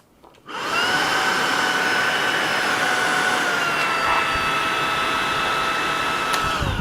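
A Tineco Pure One S11 cordless stick vacuum switches on and runs at a loud, steady whine with a high motor tone and airflow roar, a slight shift in pitch partway through, no voices.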